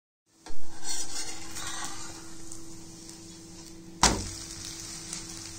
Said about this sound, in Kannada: ಮೇಲ್ಗಡೆ ಒಂದೆರಡು ಸ್ಪೂನ್ ಎಣ್ಣೆ ಹಾಕಬೇಕು ಚೆನ್ನಾಗಿ ಬೇಯಿಸ್ಕೋಬೇಕು